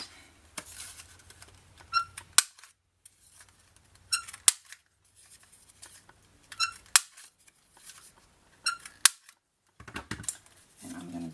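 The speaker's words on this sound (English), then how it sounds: "Now I'm going to round the corners." Sharp punching clicks from a corner-rounding tool cutting through scrapbook paper, several snaps spaced a couple of seconds apart with quiet handling in between.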